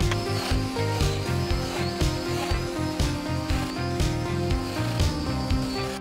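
A domino joiner cutting joints in wood for a stair gate, a whirring tool with repeated rhythmic plunges and rubbing, steady and fairly close throughout.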